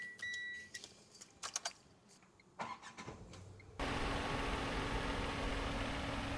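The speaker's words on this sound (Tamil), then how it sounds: "இன்ஜின் ரொம்பவே சைலண்ட்டாக ஸ்டார்ட் ஆகுது." A 2025 Tata Altroz Smart car: a few close key and switch clicks, then the engine starts and settles into a steady, even idle that continues to the end, with no talk.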